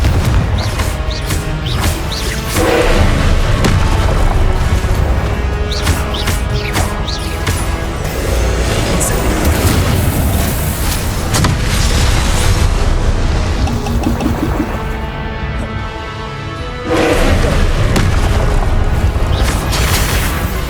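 Repeated Confringo fire-spell blasts go off in Hogwarts Legacy combat, a loud and busy stretch of booms and crashes layered over game music and effects for the whole span.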